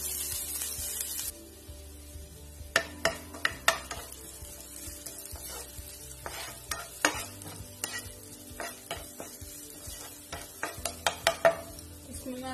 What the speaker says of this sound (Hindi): तेल हमारा अच्छे से गरम हो चुका है, इसमें मैं मिर्ची और अदरक डाल देती हूँ।